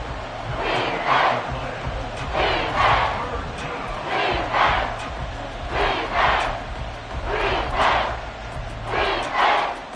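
A large stadium crowd at an American football game roars in repeated rhythmic surges, chanting waves rising and falling about every second and a half, loud and close.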